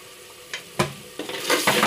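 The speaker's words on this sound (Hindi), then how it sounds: "अब इसको तकरीबन 1-2 मिनट के लिए मैं भून लूँ।" Spices and turmeric frying in a pan while a spoon stirs through them: a soft sizzle under several sharp scraping and clinking stirs, close by and with no talk.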